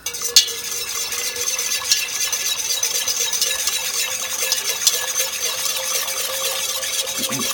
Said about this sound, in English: You just want to make sure you stir it really good